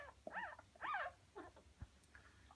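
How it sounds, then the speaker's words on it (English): Newborn puppies, a few weeks old at most, squirm in a pile while suckling, giving off several short, faint whimpers and squeaks close by, with soft rustling between the cries. "Big pile of squirming puppies under there."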